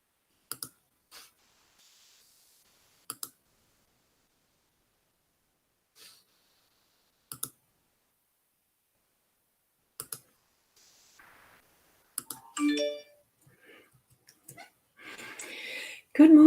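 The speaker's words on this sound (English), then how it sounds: "I'm hearing all the clicking going on around me with the iPad and other notifications" Sparse, sharp clicks from an iPad tapped at intervals roughly every few seconds in a quiet room, followed by faint breathing and soft handling noise toward the end.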